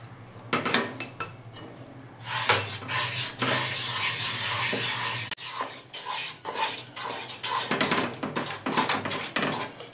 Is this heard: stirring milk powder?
yes